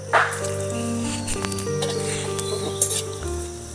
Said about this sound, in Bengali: এর মধ্যে আমি দিয়ে দেবো তেজপাতা আর 4টে শুকনো লঙ্কা ফোড়ন।